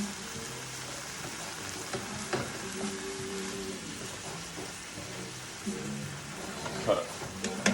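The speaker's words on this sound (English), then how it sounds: "just let the vegetables cook down a little bit" Vegetables cook down in a pan for homemade spaghetti sauce, giving off a steady close sizzle and crackle throughout with a few clinks of stirring.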